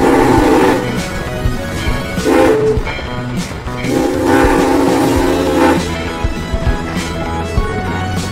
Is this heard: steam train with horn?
yes